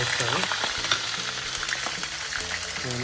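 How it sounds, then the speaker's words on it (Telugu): Chopped onion hits hot oil in a pan, setting off a steady, close, loud sizzle and crackle of frying with a few stirring scrapes, continuous throughout with no talk. "So oil almost heat ఎక్కిపోయింది. So first వచ్చేసి ఆనియన్ వేస్తాను."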